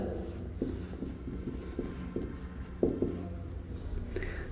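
Pen or marker strokes scratch across a writing surface in short repeated bursts, soft and close, with a quiet room hum behind and no clear talk over them.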